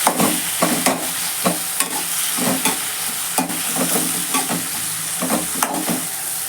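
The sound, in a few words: tomatoes stirred into sautéing onions in a pan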